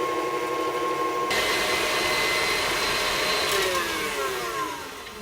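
An electric mixer creams sugar for a churro cake batter, a steady whirring motor drone that jumps louder early on and then slows and winds down near the end, with no talk.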